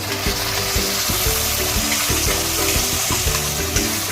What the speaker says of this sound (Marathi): कांदा चांगला ब्राऊन झालेला आहे, आता त्याच्यात मी मसाला ओतते